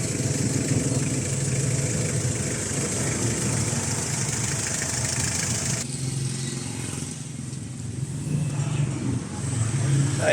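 A freshly overhauled owner-type jeep engine runs at a steady idle, a continuous mid-pitched rumble that stays even for the whole stretch, close by and fairly loud with no talking.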